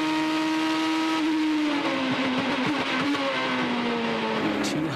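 A normally aspirated Honda V8 in a 2008 IndyCar, heard onboard during a race in Australia, screams at high revs with the pitch rising and falling through gear changes, loud and continuous.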